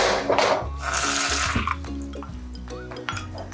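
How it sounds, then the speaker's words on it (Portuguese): Tap water runs into a pan in a home kitchen while tiramisu is being made, a loud steady rush with clinks of pots and utensils, no talk. "enquanto isso, eu vou pegar um pouquinho de água"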